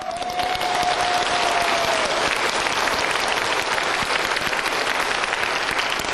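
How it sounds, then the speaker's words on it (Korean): A church congregation applauds during a pastor's lecture: dense, loud, sustained clapping from a large crowd, steady throughout, with a brief tone at the start. "박수!"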